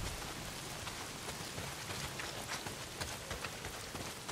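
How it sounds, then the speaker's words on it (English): Steady heavy rain pours down in the open-world game Days Gone, a dense, even hiss with scattered drop patter and no speech. "Well, not if it's pissing down rain."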